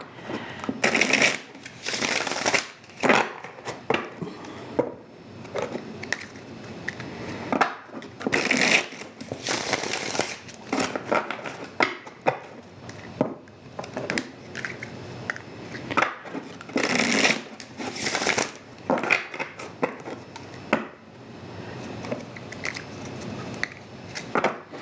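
A deck of cards being shuffled over and over, with crisp riffling bursts and soft bridging flutters in an irregular rhythm, close and moderately loud, with no talking.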